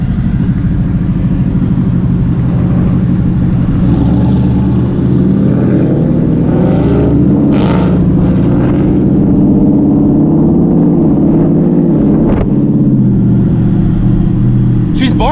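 A Mustang GT 5.0 with a 10-speed and a Charger 6.4 Hemi idle loudly in a steady low rumble with deep throaty burble throughout, while people talk over the engine noise.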